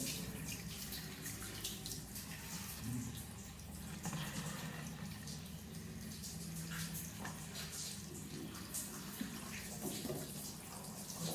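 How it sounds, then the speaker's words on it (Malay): Soapy water is poured and splashed during a body-washing demonstration, giving a continuous close wash of running, splashing water with no talk. "Basuh dengan air sabun."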